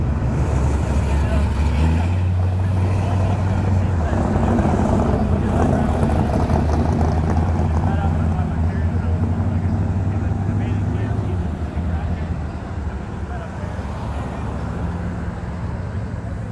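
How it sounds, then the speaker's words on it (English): Classic cars of all makes and models roll past in both directions at the Cruisin' Hines car show, a steady rumble of engines and road noise with people chatting nearby throughout. "All makes, all models, cars coming from both directions here."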